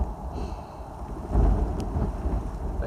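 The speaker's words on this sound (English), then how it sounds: "It's windy, it's rainy" Wind gusts rumble against the microphone over a steady wash of rain in Tillamook, Oregon, swelling louder midway and staying close and full, no voices.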